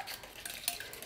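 Rock cake ingredients being mixed in a bowl, with soft scraping and clinks of a utensil against the bowl and one brighter knock, fairly close and without talk.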